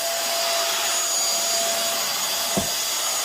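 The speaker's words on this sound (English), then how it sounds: "And then we take our cordless vacuum cleaner" A cordless vacuum cleaner runs over carpet during professional carpet cleaning, giving a steady, loud high whine with a faint tone, broken once near the end by a short low thump.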